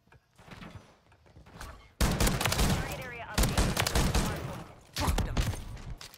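Call of Duty MW3 gunfire from a shotgun class, with bursts of loud close shots and fusillades beginning sharply, a quieter stretch with faint shots first, then sustained heavy firing with further strong bursts.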